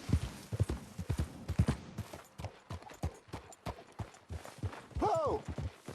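Horse hooves clip-clop in a steady galloping rhythm in Red Dead Redemption II, close and fairly loud, with a brief whinny near the end and a voice speaking over the hoofbeats.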